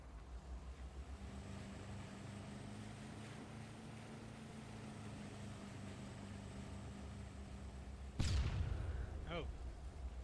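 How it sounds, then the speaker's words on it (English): A single sudden, loud missile-strike explosion booms in a military video game, cutting through a steady engine drone with a sharp crack and rolling rumble, followed by a brief voice. "Oh. That was a missile."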